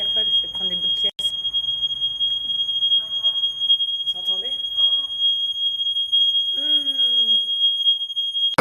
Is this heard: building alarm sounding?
yes